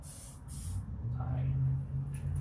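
A short burst from a spray paint can hisses close by, steady for a couple of seconds, with a low background hum underneath.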